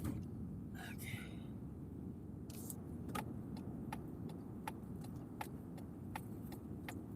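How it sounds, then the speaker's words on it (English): A car's turn signal ticks in a steady, evenly spaced rhythm inside the cabin, sharp and clear over a low road rumble, with a few faint rustles near the start. "This car does have a fairly interesting blinker sound."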